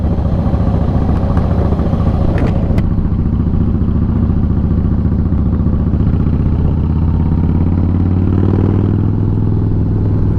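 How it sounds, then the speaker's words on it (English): A 2017 Harley-Davidson Slim S with a 110 cubic inch motor idles close by, its loud aftermarket-sounding exhaust rumbling in a deep, steady, lumpy beat with a brief rev swell near the end. "The exhaust sounds good. It's loud."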